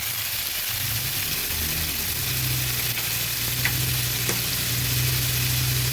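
Water and spice powders (cumin and coriander) added to a hot pan of frying ginger, making a steady sizzle with soft stirring scrapes and no talking.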